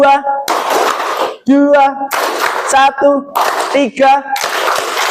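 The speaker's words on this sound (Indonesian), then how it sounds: "Tepuk tangan." Classroom group clapping: short bursts of many hands clapping together alternate with a voice calling out between them, all close and fairly loud.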